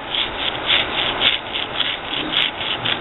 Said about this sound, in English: rock the stone back and forth like that and grind it like that